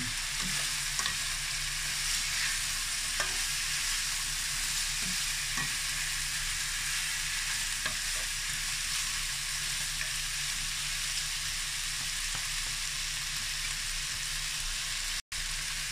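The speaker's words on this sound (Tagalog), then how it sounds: "Lagay naman natin ngayon ang ating garlic, guys." Onion and garlic sizzle steadily in a hot pan while a spatula stirs now and then, a close, even frying hiss filling the whole stretch with no talking, made for chicken afritada.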